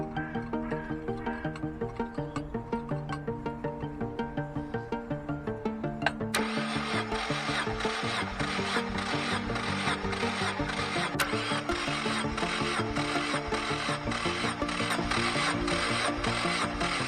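An engine turns over on the starter for a dry compression test, a steady rhythmic cranking churn that runs continuously and loud, brightening into a harsher whirring clatter partway through, with no voices.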